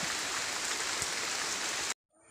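Steady rain falls in a village during the rainy season, a dense even hiss of drops on surfaces at moderate loudness, cutting off abruptly near the end.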